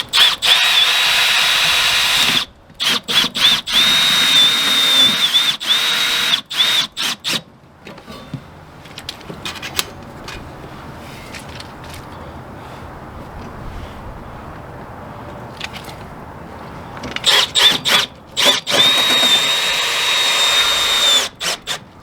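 A power drill drives screws into wood in a few bursts of whining, high-pitched spinning, loud and close, with a quieter stretch of handling noise in between.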